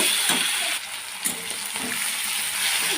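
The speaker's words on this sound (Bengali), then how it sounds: "এখন আমি মেটেটা দেব একসাথে সুন্দর করে ভেজে নেব একটু কষিয়ে নেব" Liver fries in a generous amount of oil in a pan, giving a loud, dense, steady sizzle with a couple of brief stirring knocks.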